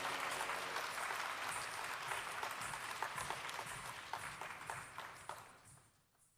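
Audience applause for Sarika Yarraboluafter a performance, a dense steady clapping crowd that holds strong before fading away at the end.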